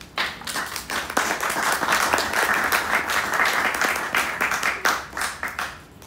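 Audience applause for Carla at a book presentation during the UANLEER 2020 reading event, a steady wash of many hands clapping that fills the room and holds for about six seconds with no voices over it.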